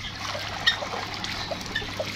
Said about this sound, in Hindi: पानी भी डाल देते हैं